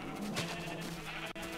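Sheep in the Minecraft video game give a short steady bleat at low level, a single drawn-out call over faint game ambience.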